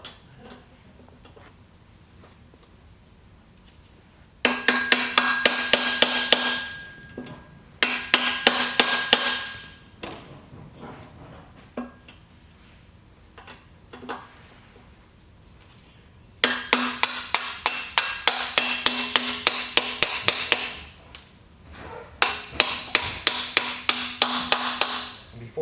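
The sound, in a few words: hammering Crown pallet jack handle axle into pump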